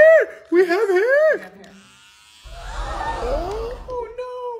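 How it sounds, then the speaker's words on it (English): An electric shaver buzzes from about 2.5 seconds to the end, steady and fairly loud. It comes after a short stretch of high, animated voices, with brief voice-like sounds over the hum. "Oh no, not the shaver."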